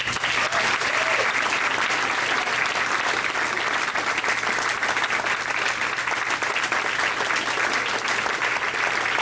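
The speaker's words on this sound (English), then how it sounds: "So I want to make sure we give these guys a round of applause" Sustained applause fills a water polo team banquet, a steady dense wash of clapping from a crowd that holds at an even level throughout with no voices breaking through.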